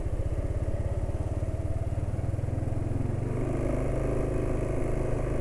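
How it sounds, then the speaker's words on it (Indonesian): A small automatic scooter engine idles with a rapid putter, then the throttle rises and the motor settles into a smoother, higher hum, close and steady. "saya ingin tunjukkan gimana sih reaksinya kalau gasnya motor penulis dinaikkan"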